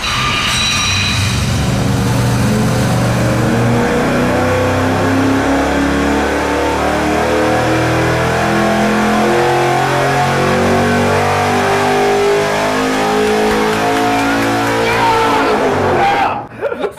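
A factory supercharged V8 revs hard on an engine dyno, its loud pitch climbing steadily through a long sustained pull before cutting off abruptly, with voices faintly underneath.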